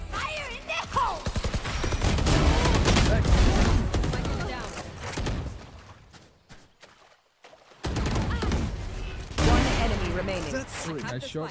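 Sheriff pistol shots in a VALORANT match ring out loud and close in rapid bursts, broken by a brief near-silent pause before more firing resumes, with a player's voice heard amid the gunfire.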